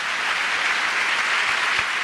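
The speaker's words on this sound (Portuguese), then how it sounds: "Vamos glorificar a Deus, irmãos, dando a Ele uma linda salva de palmas." A church congregation at a pastors' meeting breaks into sustained applause, a thick, even wash of many hands clapping together throughout, loud and continuous with no speech over it.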